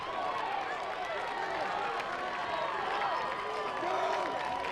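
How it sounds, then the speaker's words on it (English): Home fans of Oak Grove High School applaud and cheer from the far side of the field at a high school football game at West Forsyth, a steady, distant wash of clapping and crowd noise. "That round of applause you hear, that's from the Grizzly faithful on the far side of the field"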